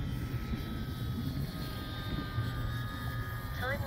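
An RC Dynam FW 190 warbird model on a 4S battery flies steadily overhead with a continuous motor and propeller drone, fairly distant and buffeted by wind noise, with a rising whine near the end.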